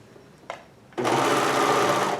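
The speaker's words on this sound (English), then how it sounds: "we are serging." A Juki MO1000 serger starts up after a brief click and runs at steady speed, a loud continuous whirring hum of stitching heard close and alone.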